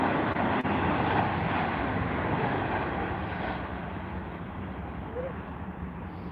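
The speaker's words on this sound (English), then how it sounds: "we watch another Dreamliner fly into Heathrow" A Boeing 787 Dreamliner flies in to land at Heathrow, its jet roar a broad, steady wash that fades slightly as it passes, heard alone at moderate distance.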